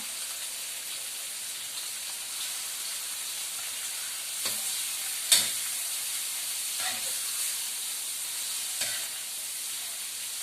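Shrimp dropped into a hot pan of broccoli for a Thai stir-fry, giving a steady broad sizzle with a few sharper crackles and pops spaced through it, close and moderately loud with no voices.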